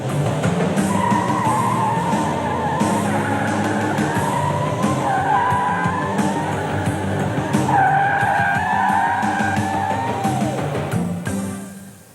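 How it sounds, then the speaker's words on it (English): A car spins donuts in a mall parking lot, its tires squealing in long, wavering howls over a low engine drone that fills the whole stretch before tailing off at the end. "we cut to the mall parking lot where Melissa is attempting to do donuts in Clarence's car"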